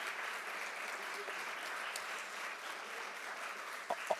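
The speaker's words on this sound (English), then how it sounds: "I'd like to give a round of applause for Brandy." Applause from an award ceremony audience, a steady moderate clapping that holds for several seconds at a distance before fading out.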